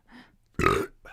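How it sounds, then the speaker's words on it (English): A single loud, throaty burp from a drummer, with softer vocal sounds just before and after it. "I'm going to burp."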